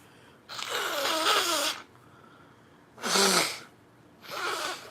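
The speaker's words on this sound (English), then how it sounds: "I gotta blow my nose." A person with a cold blows their nose in three bursts: a long wet honk, then two shorter ones separated by pauses, close to the microphone.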